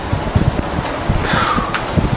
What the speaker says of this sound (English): I'm just waiting for this wind to die down a little bit